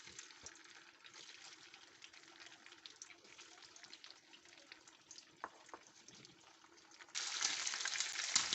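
Chicken pieces frying in a pan of hot oil, a steady quiet hiss and crackle that swells sharply louder near the end.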